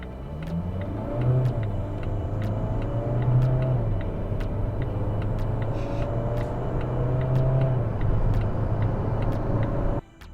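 A 2019 Volvo XC40 2.0 D3 diesel accelerates hard and close in dynamic mode, its pitch climbing through a few gear shifts in a steady roar before cutting off abruptly at the end.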